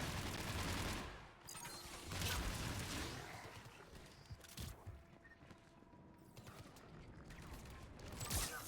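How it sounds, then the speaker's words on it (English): Gunfire from the M7 Lancer machine gun in Mass Effect 3, a sci-fi video game: loud bursts of rapid shots, heaviest at the start and again midway, separated by quieter stretches of game ambience, with no talking. "I think it's the M7 Lancer or something they're calling it"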